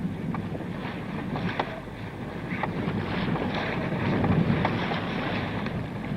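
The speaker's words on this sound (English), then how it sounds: "Ragamuffin, one of Australia's Admiral's Cup team, is sailing hard close behind Ondine" Ocean racing yacht Ragamuffin of Australia's Admiral's Cup team, 1968 Sydney Hobart race, driving hard through wind and waves: steady broadband rush of water and wind buffeting the microphone, with occasional slaps and splashes, no voices.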